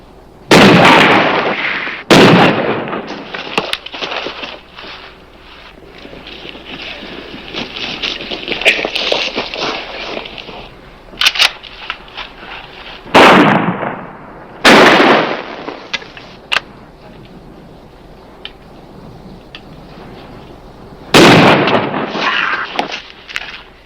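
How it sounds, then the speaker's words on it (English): Shotgun blasts ring out in a gunfight from the western TV series Tombstone Territory, set at Skeleton Canyon: about six loud, booming shots spaced several seconds apart, each with a long echoing tail over quieter background noise. "Carter shotgun!"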